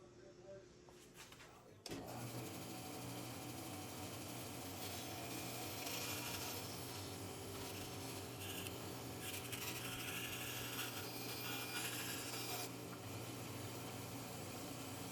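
A bandsaw cuts through birch and madrone, starting with a sudden jump in level and then running as a steady, fairly quiet grinding buzz of blade on wood with faint mechanical rattling.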